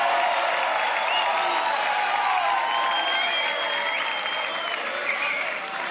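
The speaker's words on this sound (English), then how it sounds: "Ladies and gentlemen, in three. Give it up for Beatness." Audience at a beatbox loopstation battle breaking into loud, sustained applause with crowd noise, a dense steady clatter of clapping that holds throughout and fades slightly at the end.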